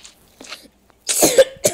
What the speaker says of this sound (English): I heard someone's coughing.